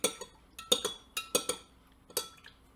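A spoon stirs sugar into water, clinking sharply against the sides of the container in quick uneven taps and pairs, close and clear with quiet gaps between.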